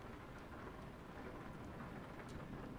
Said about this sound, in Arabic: مطر مطر مطر